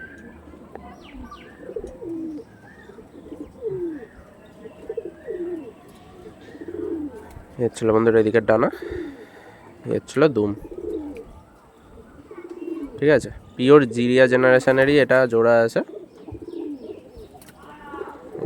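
Pigeons coo in soft, rolling bursts, some close and loud, between stretches of someone talking over them.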